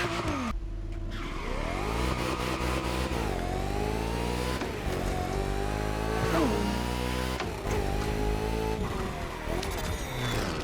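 A Ferrari engine with the Retro Engineering audio signature in The Crew Motorfest revs up and down repeatedly, loud and close, with rising and falling pitch sweeps and a brief tire squeal in the middle.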